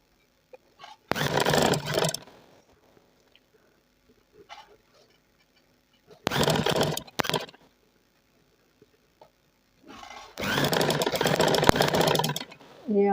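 A sewing machine stitches shuttle lace onto the edge of fabric, running in three loud bursts of steady whirring. The bursts are separated by quiet pauses with faint handling sounds.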